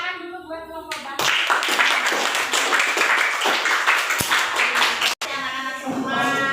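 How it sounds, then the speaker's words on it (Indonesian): Schoolchildren in a classroom clap together for the language group, a lively burst of many small hands rising after a teacher's voice and fading back into talking near the end. "Ya, tepuk tangan dulu buat kelompok bahasa."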